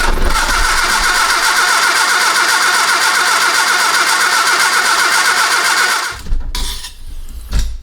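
A Triumph Spitfire engine cranks steadily on its starter with the solenoid stuck and the car left in gear, a loud continuous grinding whir that cuts off abruptly near the end, followed by quieter rattles.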